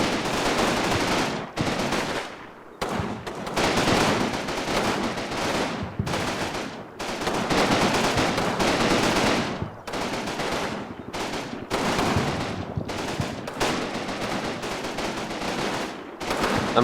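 Vickers machine guns in a Combat Mission battle over a factory on the Gustav Line in Italy rattle off loud, sustained bursts, one after another, separated by short pauses and set against a constant backdrop of gunfire.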